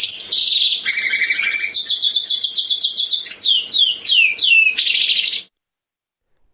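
A canary sings a loud, continuous run of bright trills and rapid chirping phrases close by, which stop abruptly into silence near the end.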